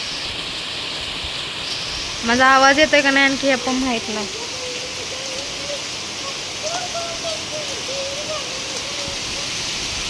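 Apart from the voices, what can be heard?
heavy rain falling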